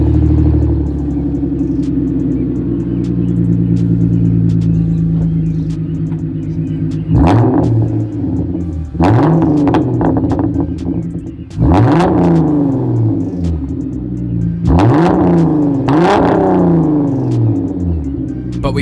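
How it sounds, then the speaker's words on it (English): A 3.8L V6 Genesis Coupe with its muffler deleted idles with a low drone, then gets revved hard four times, each blip rising sharply and falling back with a raspy crackle, loud and close with no talking. "if anyone was curious what a muffler delete sounds like"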